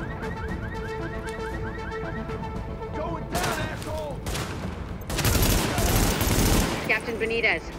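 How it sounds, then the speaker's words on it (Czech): Gunfire from the video game The Division: bursts of rapid shots and loud crashing volleys, with a long sustained fusillade around the middle, set against an ongoing game soundscape with occasional voices. "Odněkud jde střelba, ale odkud?"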